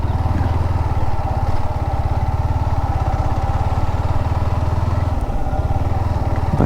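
A motorcycle stuck in soft beach sand revs steadily, its engine giving a loud, close, even throbbing drone that holds throughout without breaks, with no voices over it.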